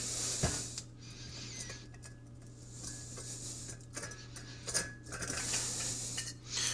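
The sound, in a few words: screwing a cheap camping stove onto an isobutane canister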